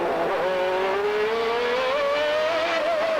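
Ayrton Senna's Formula One car at speed through the S's at Adelaide in 1991, heard onboard: a loud, continuous high-pitched engine whine that climbs steadily in pitch with a brief gear-change dip, alone without talk.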